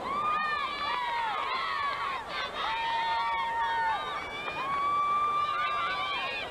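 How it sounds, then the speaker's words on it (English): Teammates at a 1997 SEC women's gymnastics championship cheer on a gymnast, a sustained crowd roar of shouts, whoops and high-pitched yelling that swells and dips throughout, with a commentator's voice faintly under it. "You hear her teammates cheering her on here"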